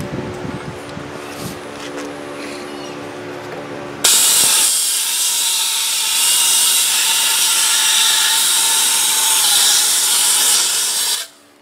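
A homemade shop sand blaster bursts on after a few seconds of quieter background, then roars as a loud, steady hiss of spraying grit before cutting off abruptly.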